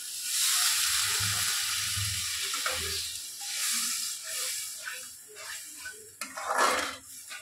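Water hits a frying mustard spice paste in a hot pan with a loud burst of sizzling and steam hiss that gradually settles into softer bubbling and crackles, with a few utensil clinks.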